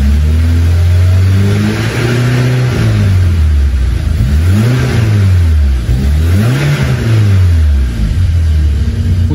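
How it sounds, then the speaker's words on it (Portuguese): A 1.6 car engine revved repeatedly in close range, its pitch climbing and falling in several loud sweeping surges from idle, with no talk over it. "vou acelerar, só para poder mostrar para vocês"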